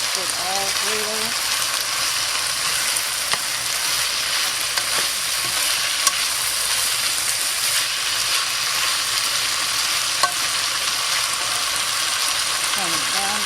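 Spaghetti sauce cooks in a pan with a continuous bright sizzle and frying hiss, occasional faint stir clicks, and a voice speaking briefly at the start.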